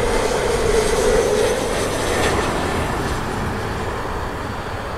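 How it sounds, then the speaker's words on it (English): A Delta airliner landing at Los Angeles Airport, a loud, steady jet engine roar and broad rushing noise that slowly fades over several seconds. "Delta is landing."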